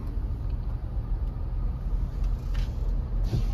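Night traffic on Marine Drive in Mumbai, a steady low rumble of passing cars and buses with faint brief hisses over continuous engine noise.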